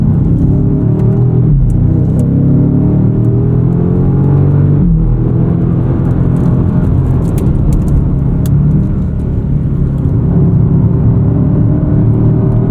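A 2025 BMW M5, a heavy 5400 lb sedan, drives hard on a race track, its engine a loud, close, continuous roar with steady rumbling drone and subtle shifts in pitch as it pulls through the run.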